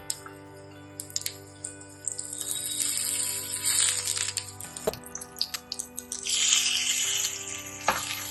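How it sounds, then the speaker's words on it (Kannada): Raw mango chutney ingredients fry in sunflower oil in a pan, giving a steady close sizzle with scattered crackles and drip-like pops that swell in the middle and again near the end. "ಎಲ್ಲಾನು ಫ್ರೈ ಮಾಡ್ಕೊಳ್ಳೋಕೆ ಇದಕ್ಕೊಂದು ಸ್ವಲ್ಪ ಎಣ್ಣೆ ಹಾಕೊಳ್ಳೋಣ"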